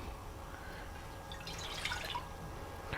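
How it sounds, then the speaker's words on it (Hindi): About a cup of water is poured into a kadhai on the stove while cooking aloo palak, giving a brief splashing, trickling burst midway over steady background hiss, with no talking. "और इसमें तकरीबन 1 कप पानी डालूँगी"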